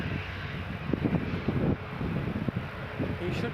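A Diamond DA62 twin-engine light aircraft taxiing at Newcastle Airport, heard as a moderate, steady propeller-engine hum mixed with wind noise, with a few soft thumps and faint talk in the background.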